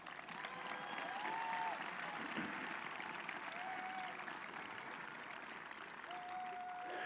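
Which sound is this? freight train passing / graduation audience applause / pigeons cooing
graduation audience applause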